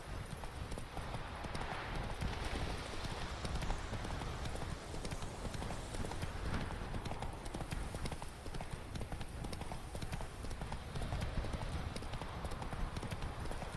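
Horse hooves galloping in The Witcher 3, a fast continuous clip-clop that runs steadily throughout at an even, fairly close level, with faint wind and game ambience beneath.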